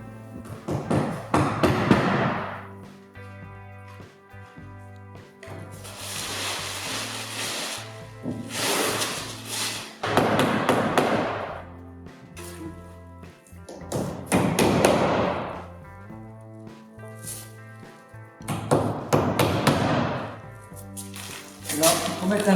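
Hammer blows striking wood while a wooden garden shed is assembled, heard as repeated thuds in several loud bursts, mixed with voices talking around the work.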